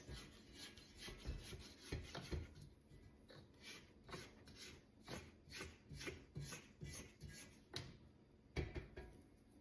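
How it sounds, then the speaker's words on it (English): A scraper working around the sides of a sourdough dough mixing bowl, heard as a quick run of close, rhythmic rubbing strokes, fairly quiet and with no talking. "I'm gonna go ahead and scrape down the sides."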